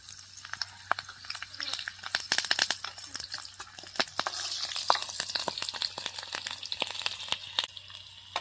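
Garlic and chili frying in oil in a pan give a steady crackling sizzle, broken by frequent sharp clicks and scrapes of stirring throughout, with no talking.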